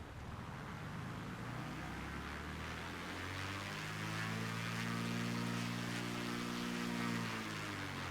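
Single-propeller Maule M7-235 light aircraft engine in Microsoft Flight Simulator, a steady droning hum that rises in pitch partway through and holds, continuous and fairly quiet with no talking.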